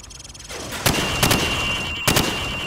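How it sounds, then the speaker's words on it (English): Three sharp rifle shots fired from the hip on a training range in Call of Duty 4: Modern Warfare, spaced over a couple of seconds against steady background ambience. "Now, shoot at the targets while firing from the hip."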